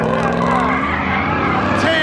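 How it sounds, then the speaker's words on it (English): Car drifting sideways at full throttle at an illegal underground street meet, engine roaring loud and close with sustained tire squeal throughout, a brief rising whine near the end. "Turn the wheel completely sideways and gun it."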